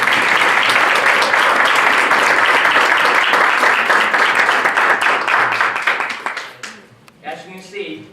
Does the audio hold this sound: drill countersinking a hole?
no